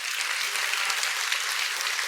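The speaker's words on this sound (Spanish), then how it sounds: "Démosle un fuerte aplauso a Jesús" A church congregation applauds during a worship service, a dense, continuous wash of many hands clapping together at steady volume.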